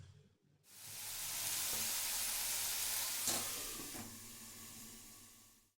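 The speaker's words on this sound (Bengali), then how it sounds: "কিছুক্ষণ গ্যাসের ফ্লেমটা মিডিয়াম টু হাই রেখে নাড়াচাড়া করে ভাজবো" Yardlong beans stir-fry in a pan over medium-high flame, a soft continuous sizzle that starts after a brief quiet moment, with a few faint knocks of stirring.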